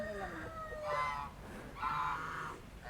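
A goose nesting on eggs under a tamarind tree gives two short, moderately near honks, with soft outdoor background noise between them.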